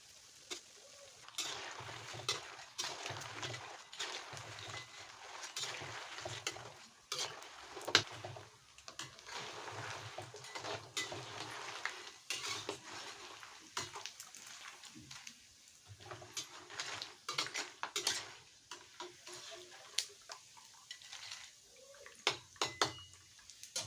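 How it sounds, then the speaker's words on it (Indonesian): Basreng fish cake chips fry in a pan, a quiet, continuous crackling sizzle with occasional clinks of a utensil against the pan. "ini mau aku goreng dia sampai kering, sampai crispy"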